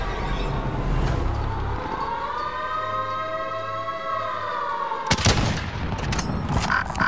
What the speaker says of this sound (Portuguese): Estamos a receber tiros